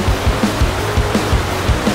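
The Salto Cantagalo waterfall in Morretes roars as a loud, continuous broadband rush of falling water, heard close by with no voices.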